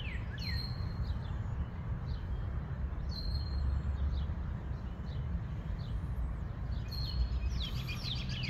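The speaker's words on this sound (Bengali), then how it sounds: "পাখির ডাকও শোনা যায়।" Several birds call through a forest in spring: bright chirps and trilling whistles at moderate distance, repeated irregularly over a constant low background hum.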